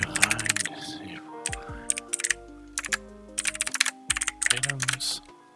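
Code being typed on a computer keyboard for a Discord bot, with rapid bursts of sharp, close key clicks separated by brief pauses, and a voice talking underneath.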